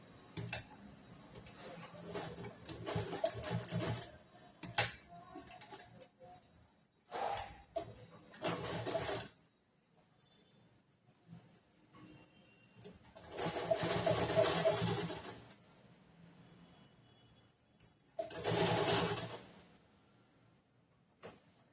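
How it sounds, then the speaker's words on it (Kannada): A sewing machine stitches the folded edge of a churidar top in several separate bursts of rapid ticking, each a few seconds long, with quiet gaps and faint handling sounds between them. "ಫೋಲ್ಡ್ ಮಾಡಿ ಇಲ್ಲಿ ಎಡ್ಜಿಗೆ ಒಂದು ಹೊಲಿಗೆ ಹಾಕ್ತೀನಿ"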